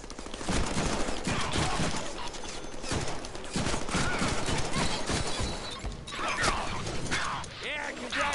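Rapid gunfire from the Deadpool video game, dense bursts of shots and impacts crackling loudly and continuously with game sounds layered throughout.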